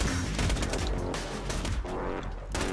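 Gunfire crackles in Borderlands 2, bursts of rapid shots coming in clusters with brief lulls between, loud and close amid the game's clatter.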